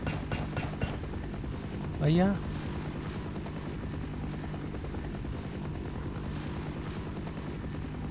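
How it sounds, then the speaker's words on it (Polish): An aircraft in the video game Half-Life: Opposing Force rumbles as a continuous loud drone of engine and rotor noise that fills the whole stretch, with a person briefly speaking over it. "Samolot."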